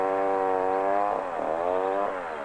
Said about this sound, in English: This giant drill makes it easier for men to dig a hole in the ground